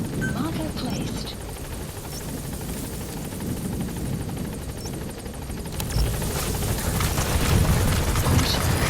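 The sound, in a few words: support helicopter in video game Metal Gear Solid V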